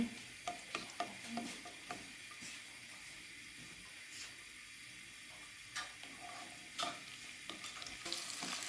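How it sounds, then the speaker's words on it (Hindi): Ginger sizzles steadily in a hot pan for a khara masala keema, a constant frying hiss broken by occasional scrapes and taps of a stirring spoon, heard up close with no talking. "इसके अंदर हम डालेंगे अदरक को। अदरक को हम थोड़ा सा भूनेंगे।"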